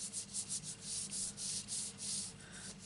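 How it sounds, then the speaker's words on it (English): Paint is rubbed over a stencil mask on paper in quick, close, steady strokes, a soft repeated scratchy rasp with no voices. "and just rub it over"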